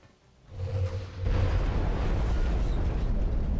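A rocket blast in the XCOM: Enemy Within game at an abductor UFO crash site swells into a loud, sustained rumbling explosion after a short rising lead-in, heard without any speech.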